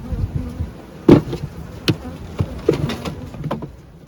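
Honey bees buzz around a crowded, busy hive with old and young brood, close by, in uneven bursts and swells over a low background hum, with no voices.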